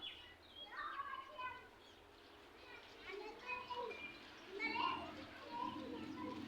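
Children play nearby, their high shouts and chatter rising and falling in bursts at a moderate distance, with a few bird chirps mixed in.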